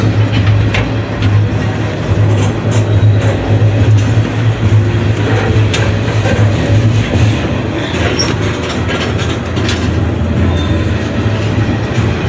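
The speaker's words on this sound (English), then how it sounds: "There's another caboose right there." A freight train with a caboose rolls past on the railroad in Texas or Oklahoma, a loud, continuous rumble of wagons with rhythmic wheel clatter and occasional squeals, close and unbroken throughout.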